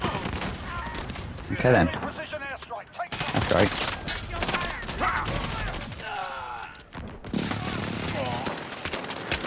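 Shotgun and pistol fire in Call of Duty: Modern Warfare, with sharp, loud bursts of gunshots in quick clusters amid game battle noise, while a player talks over it.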